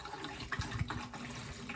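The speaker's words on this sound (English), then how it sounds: "Pour the fixer in there." Film fixer poured into a developing tank, a soft, low liquid splashing and gurgling that runs steadily for under two seconds, close and fairly quiet.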